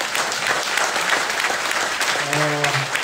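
An event audience breaks into steady, dense applause that fills the whole moment, with a brief tonal voice or sound rising near the end.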